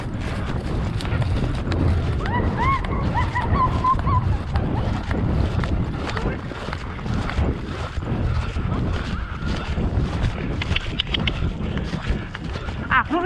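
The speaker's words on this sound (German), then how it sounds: "Wenn ihr wollt, können wir mal versuchen zu galoppieren." A Shire horse gallops across a stubble field, with rapid rhythmic hoofbeats and rustling under heavy wind noise, and people talk briefly.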